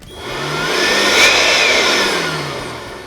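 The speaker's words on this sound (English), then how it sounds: "Ryobi's compact blower is ideal for cleaning up dust and dirt, including sawdust, wood, and metal filings" A Ryobi ONE+ compact cordless blower runs steadily at close range, a loud continuous whoosh of rushing air with a motor whine that swells and peaks near the middle before easing slightly, with no talk over it.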